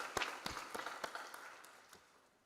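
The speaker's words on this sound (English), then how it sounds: "Distinguished guests, honored ladies and gentlemen, a round of applause." A conference audience at an engineering school's opening session gives a round of applause, quiet and distant, with a few distinct claps over a light wash that gradually fades away.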